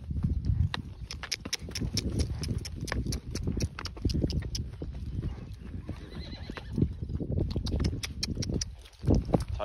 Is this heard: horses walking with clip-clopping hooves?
yes